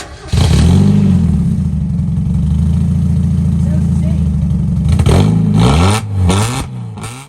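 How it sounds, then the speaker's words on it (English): A loud, rough supercharged Mazda Miata engine with its exhaust removed runs at a steady drone, then revs up and down several times near the end, harsh and close. "Now that we got that, let's turn it on, see exactly what it sounds like."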